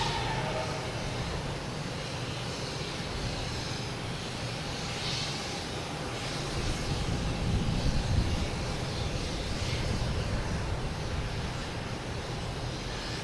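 A United Airlines Boeing 757 arrives at Boston Logan from San Francisco. Its jet engines make a sustained roar that grows louder about halfway through, then holds steady as it passes nearby.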